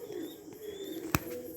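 Domestic pigeons give a soft, low cooing murmur through most of the short stretch, close by, with one sharp brief knock partway through and no talking.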